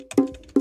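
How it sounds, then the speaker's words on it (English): Two quick, resonant bongo sample hits in Cubase, each a short pitched thump, sounding alone and close. "preview some of these bongo sounds"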